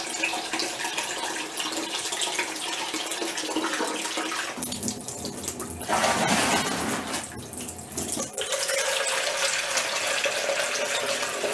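Tap water runs steadily into a home brew vessel being filled toward the 5 gallon mark, a continuous rushing and splashing that shifts pitch briefly as the flow changes.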